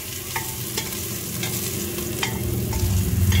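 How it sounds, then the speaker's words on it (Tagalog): Ginger sautéing in a pan for batchoy noodle soup, a close steady sizzle with regular scraping strokes of a spoon stirring roughly every half second, growing slightly louder toward the end, no talking. "So, halo-haloin mo para ma-brownish ang kulay."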